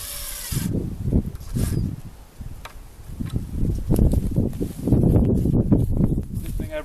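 A power drill drives screws to mount a 2x4 down to a tree trunk outdoors, with several short whirring bursts between quieter gaps and a person talking nearby.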